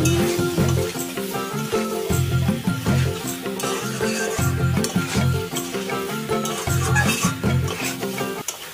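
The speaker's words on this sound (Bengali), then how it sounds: "এবার সব কিছু মশলার সাথে ভালো করে মিশিয়ে নেব।" Boiled potatoes and green peas are stirred into spices frying in a wok for potato curry, with repeated scraping strokes over a steady close sizzle that lasts throughout and no talking.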